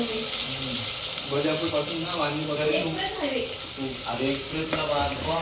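Garlic and a ground masala paste fry in a pan for a crab dish, with a steady sizzle throughout and people talking over it.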